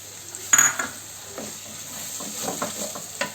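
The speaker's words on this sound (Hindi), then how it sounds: "जो हमने प्याज काटा था उसे भी इसमें भून लेना है।" Chopped onion sizzles in hot ghee in a pan, a steady soft frying hiss broken by a sharp metal clank of the spoon and repeated scraping stirs.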